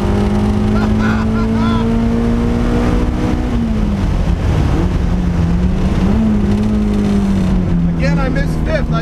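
A K24-swapped Mazda Miata NB screams on a race track, the engine droning loud and steady inside the cabin, dipping as a shift into fifth gear is missed before pulling again, with a driver speaking briefly over it.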